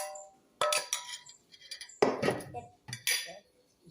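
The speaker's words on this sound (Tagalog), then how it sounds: "halo na natin yung ating Caimito" Utensils clink and scrape against a bowl in short bursts with pauses as star apple (caimito) is mixed by hand into ice cream, close and fairly quiet.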